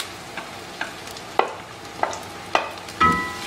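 Garlic sautéing in a pan as a quiet, steady sizzle, broken by a few distinct utensil clicks and scrapes from stirring roughly every half second, with no talking.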